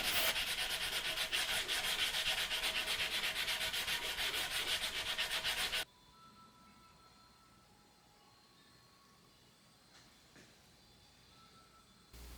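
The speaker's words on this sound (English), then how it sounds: "Now that this is all sanded down, nice and bare" Sandpaper rubs rhythmically and loudly over a wooden chair, taking the old finish down to bare wood. After about six seconds it stops abruptly, leaving quiet room tone.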